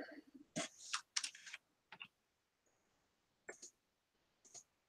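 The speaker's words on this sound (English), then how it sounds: "If you hear my clicking of the mouse a lot, you'll know why." A computer mouse clicks in quick faint bursts: a cluster of rapid clicks, then scattered single clicks with quiet gaps, close and soft.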